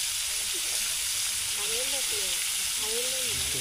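Pangasius fish pieces fry in hot oil in a pan during village cooking, a loud, steady broadband sizzle and hiss. A voice talks over it.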